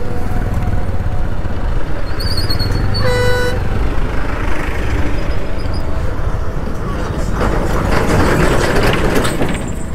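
Road traffic crawling across Pamban bridge, a broad rumble of engines and wind with a short car horn toot and fainter honks, recorded close on a moving motorbike while a voice talks.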